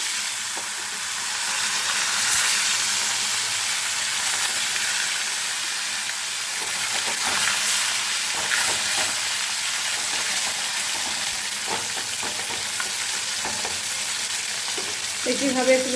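Pieces of katla fish fry in hot oil with a loud, continuous sizzle and hiss, broken by occasional soft clicks of a turning utensil, steady throughout with no voices.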